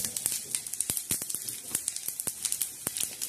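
Whole spices crackle and pop in a pan over low heat, a quiet scatter of sharp irregular snaps and ticks over a soft sizzling hiss, close by with no talking.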